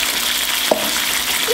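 Chicken with chickpeas in tomato sauce frying in a pan, a steady soft sizzle with one brief stir or scrape near the middle, close and continuous with no talk.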